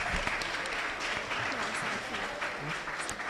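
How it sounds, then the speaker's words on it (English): Audience applause at an interschool maths quiz final, a steady wash of clapping from many hands that fills the whole stretch with no breaks. "Let's give them a big round of applause for that."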